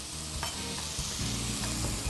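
Eggplant frying in olive oil in a pan, a steady close sizzle with occasional stirring scrapes, continuous and fairly loud with no talking.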